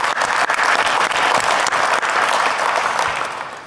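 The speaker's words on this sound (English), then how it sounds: "God, can we give her a round of applause," Dense, steady applause from a large audience at the DEF CON 20 hacker conference, filling the room at full volume and tapering slightly toward the end.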